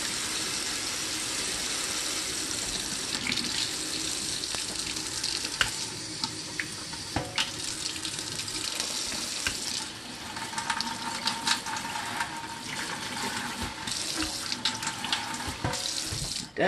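Water runs steadily from a tap into a container being refilled, a continuous hiss and splash with small clinks and knocks, close by and with no talking.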